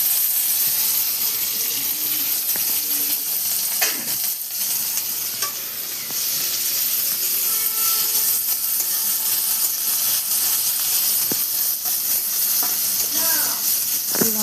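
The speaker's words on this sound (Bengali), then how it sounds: "এবার টমেটো কুচিটা দিয়ে দিচ্ছি।" Chopped tomato goes into a hot frying pan for potato patties, giving a close, steady hissing sizzle with occasional scrapes of stirring and brief soft voice sounds.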